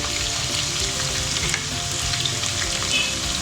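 Dried red chilies and spices fry in hot oil for chicken korma, a dense, steady sizzle with crackling pops and occasional stirring scrapes, close and alone without talk.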